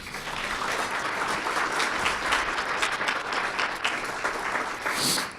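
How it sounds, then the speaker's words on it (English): An audience at a civic State of the City and County address applauds for event sponsor BP, a steady moderate round of many hands clapping that holds for several seconds with no voices. "So round of applause for BP"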